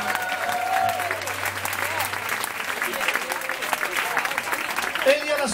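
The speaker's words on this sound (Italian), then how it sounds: "facciamo un grande applauso" Audience applause for the lead guitarist at a live acoustic music performance, steady sustained clapping from a crowd for several seconds, with a voice speaking over it.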